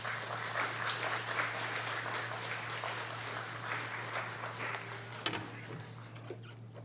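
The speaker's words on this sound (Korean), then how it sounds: "한 박수로 환영해 주시기 바랍니다" A church congregation at a Wednesday worship service claps steadily to welcome a pastor, a broad even patter that thins slightly near the end, over a low constant hum.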